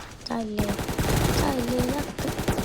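SMG gunfire in the browser shooter game DEADSHOT.io, rapid bursts of shots with game sound effects and a voice talking over them.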